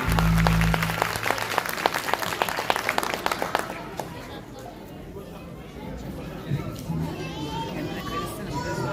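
A crowd bursts into loud, dense applause that gradually thins into scattered clapping and murmuring chatter.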